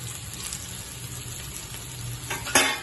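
Mixed vegetables fry in a pan with a steady, close sizzle, joined near the end by a brief burst of louder crackling as they are stirred; no one speaks.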